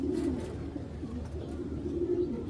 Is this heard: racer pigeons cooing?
yes